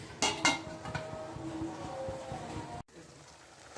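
A metal lid clatters onto a cooking pot of simmering pointed gourd curry, a couple of clinks and scrapes at the start, then a low bubbling simmer that cuts off abruptly.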